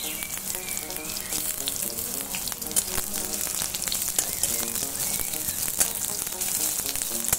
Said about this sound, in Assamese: নহৰু পিছতে পিঁয়াজ দি দিয়া হ'ব